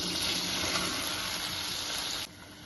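Cubes of paneer sizzle steadily in melted butter in a pan, a loud continuous frying hiss that cuts off abruptly near the end.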